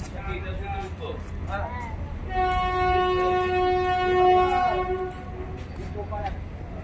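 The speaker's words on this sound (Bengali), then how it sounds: "ট্রেনটা ছেড়ে দিল।" A train horn sounds steadily for a few seconds over the rumble of rail cars as the train departs, with voices talking around it.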